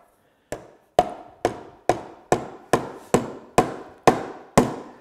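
Ten sharp, evenly spaced wooden knocks as a tenon is hammered and seated into a hand-cut drawbore mortise, each strike near and loud with a short ringing decay, no talk.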